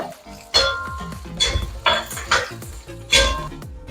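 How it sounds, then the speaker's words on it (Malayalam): Ginger and garlic stirred in a pan bring close, loud metallic clanks and scrapes as the spoon strikes the vessel in an uneven rhythm, with a faint sizzle underneath. "ഇതെല്ലാം കൂടി നന്നായിട്ടൊന്ന് ഇളക്കി കൊടുക്കുക"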